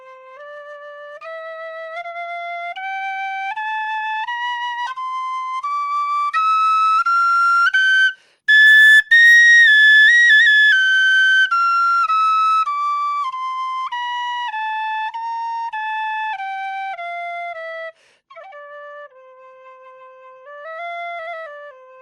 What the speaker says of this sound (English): I start every whistle with just the tones up and down the scale